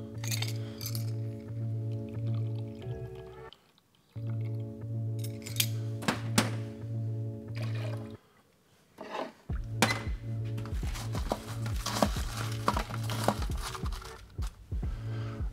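Crushed ice scooped for a piña colada-style cocktail, bursts of clinking and crunching ice against glass and metal, separated by short pauses, close and fairly quiet with no talking.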